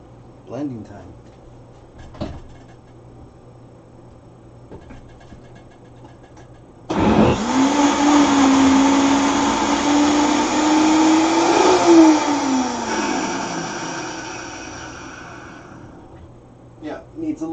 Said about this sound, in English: Okay, blending time.